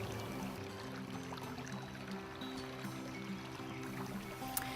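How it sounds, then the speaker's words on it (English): Water is dumped out of sample bottles during water sampling, making a faint, steady pouring trickle with light splashing. "she has to dump the water in both bottles and recollect the samples"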